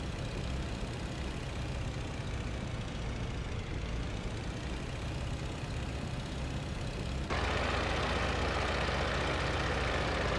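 Engine of an Ilya Muromets giant bomber, a big early Russian biplane, droning steadily and loudly throughout with no pauses, getting noticeably louder and harsher for the last few seconds.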